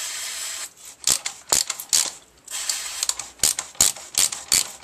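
Motorcycle brake disc bobbins rattling as the disc is moved by hand, a series of sharp metallic clicks and clacks in irregular bursts, close and clear with no talking.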